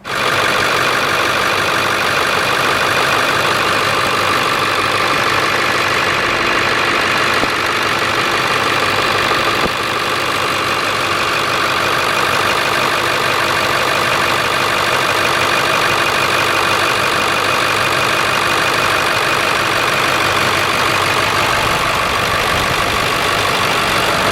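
A Ford Powerstroke 7.3 diesel truck engine idles close and loud, a steady rough clatter with an even knocking rhythm held for the full length with no talking.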